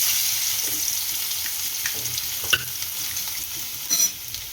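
Garlic sizzles in hot oil with mustard seeds, cumin and asafoetida for a buttermilk roti tempering, a steady close crackle with a few sharp pops and the scrape of a stirring spoon.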